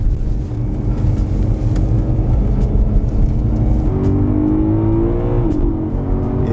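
A BMW M3 Competition engine runs loud and close from inside the car, a steady drone that climbs in pitch as it revs up, then briefly drops and rises again near the end.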